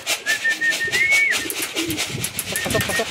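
A racing pigeon coos and calls close by as it lands at the loft, with flapping and shuffling, while someone talks excitedly over the scene.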